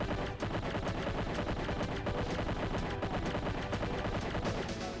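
Chaingunner enemies firing rapid bursts in a Doom map, with dense, continuous loud gunfire and explosive game combat noise filling the whole stretch without pause.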